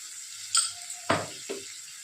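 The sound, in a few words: sautéing mustard-sauce pabda fish with turmeric in a pan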